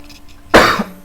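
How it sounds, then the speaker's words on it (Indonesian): A single loud, close cough, short and harsh, in a quiet room during a WordPress web design lesson. "sebentar saya mau batuk."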